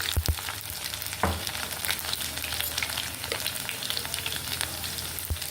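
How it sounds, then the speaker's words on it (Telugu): Crushed garlic, mustard seeds and cumin fry in hot oil in a pan while a pickle is being made, giving a steady, close sizzle with occasional sharp pops and spattering. "ఇప్పుడు ఈ వెల్లుల్లి కొంచెం ఫ్రై అవ్వాలి."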